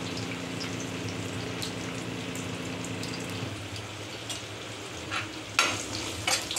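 Onion and turmeric sizzle in a pan for a sweet potato pulusu, a close, steady frying crackle with a low bubbling underlayer, then a few sharp spatters near the end.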